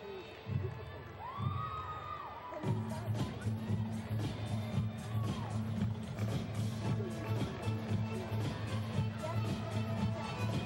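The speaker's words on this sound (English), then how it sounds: "You can hear the crowd giving some encouragement." Crowd at a women's college gymnastics meet, Stanford at Utah, shouting and cheering encouragement in a large arena, a steady roar with rhythmic clapping and chanting, while commentators talk over it.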